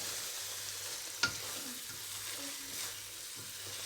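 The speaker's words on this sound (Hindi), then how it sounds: "तकरीबन मुझे 5-6 मिनट हो गए इसको भूनते हुए।" Eggplant bharta fries in ghee, a soft, steady sizzle heard at low level with one sharp utensil tap near the middle and faint low murmurs underneath.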